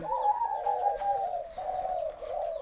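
A dove coos close and clear in a soft, rolling run of low notes, repeated several times with short breaks.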